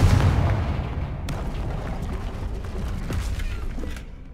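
The Confringo fire-blast spell goes off in Hogwarts Legacy gameplay, a loud booming burst at the start followed by a rumbling, crackling explosive wash that fades after about four seconds.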